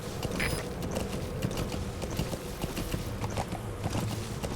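D-Horse's hooves in the Metal Gear Solid V game, a rapid, steady clip-clop of galloping over ground at moderate volume, with faint mechanical rattles and a low rumble underneath.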